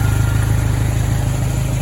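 A rebuilt Dodge SRT-4 turbo engine runs steadily at idle, a loud close rumble with a fast, even pulse throughout, no voices.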